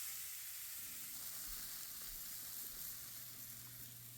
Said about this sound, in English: Add the turkey breast, skin side down first, and then flip it over.